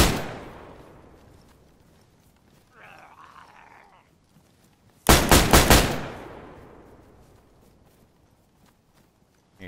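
Gunfire in a tactical shooter game: a tight burst of four loud, sharp rifle shots, preceded by quieter game ambience and a faint muffled sound, with the reports ringing out and fading afterward.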